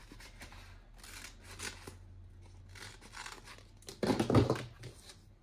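Scissors cutting out clear Halloween decals for a DIY tumbler, a series of close, soft snips and rustles of the sheet, with a louder burst of crinkling cuts toward the end.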